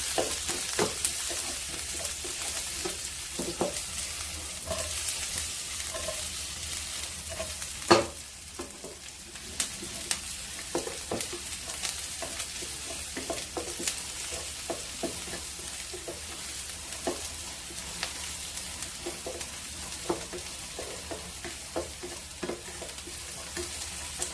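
Onions frying in a pan over high heat, a quiet continuous sizzle dotted with irregular spatula taps and scrapes that runs steadily for over twenty seconds without speech.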